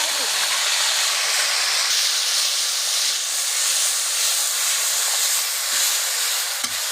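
A paste of ground tomato, cumin and onion hits a hot pan for a catla fish curry, giving a loud, continuous close sizzle and hiss throughout.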